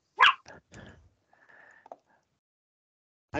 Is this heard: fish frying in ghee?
no